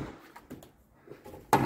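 The screen door of a brick house with a front porch closes with one sharp clack at the end, after soft handling noises and light bumps.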